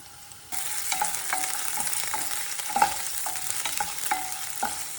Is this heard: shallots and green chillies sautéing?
yes